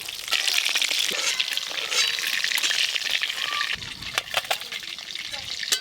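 Snakehead fish frying in hot oil in a pan, giving a loud, steady sizzle throughout, broken by sharp crackles and a few stirring clatters toward the end.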